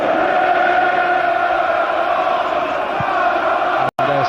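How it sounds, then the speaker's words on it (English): Football crowd at Anfield during Liverpool v Barcelona, a 2001 UEFA Cup semi-final second leg, roaring in a steady, loud, dense wash of cheering and chanting that holds throughout before a brief dropout near the end. "They have made an incredible noise, the Anfield crowd."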